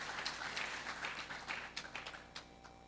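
An audience at a graduation ceremony for the Center for Development & Certification Training applauds; scattered, fairly faint claps build into uneven bursts and trail off within a few seconds.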